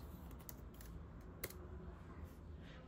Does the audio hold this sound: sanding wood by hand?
no